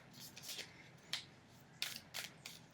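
A tarot deck with a matte card finish being shuffled, giving quiet papery riffles and soft flicks in several short bursts, with faint handling noise between them.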